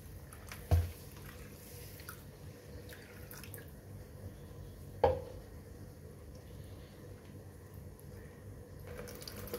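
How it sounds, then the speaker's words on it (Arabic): Moroccan couscous grains washed in water, a faint close swishing and trickling of water with two brief louder splashes, no one talking. "دابا غادي نغسل هاد الكسكسو مزيان"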